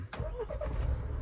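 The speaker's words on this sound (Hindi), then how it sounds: "ये अपना इग्निशन ऑन है और अब लेते हैं सेल्फ" A Mahindra Thar 4x4 is started with its self-starter. A brief whirring crank catches within a second and becomes a low, steady idle, close to the microphone.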